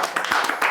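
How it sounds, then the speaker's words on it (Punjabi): A studio audience on a Punjabi-language comedy talk show claps for an arriving guest: a short, dense burst of applause lasting under a second. "ਇੱਕ ਤਾਲੀਆਂ"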